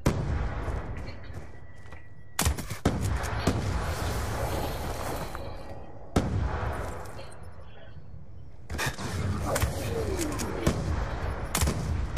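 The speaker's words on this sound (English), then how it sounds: "All I can hear is explosions." Gunfire and explosions from the video game Black Ops 2 come in repeated loud bursts and sharp cracks over a constant rumble of battle, with a voice talking at times.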